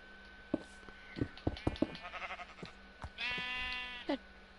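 Donkey or horse noises in the Minecraft video game: a harmonic braying call with a long sustained bleat-like stretch, preceded by a few short calls and clicks, fairly close and clear with no talking.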